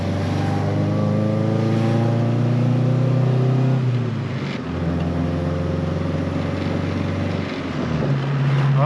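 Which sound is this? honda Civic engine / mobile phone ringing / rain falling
honda Civic engine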